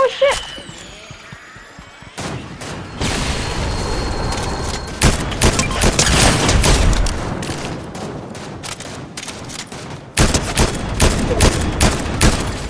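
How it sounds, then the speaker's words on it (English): Dense bursts of gunfire from the video game Fortnite during an intense match finish: loud, rapid volleys that stutter on and off, with heavy impacts and crashes mixed in. "I'm getting shot!"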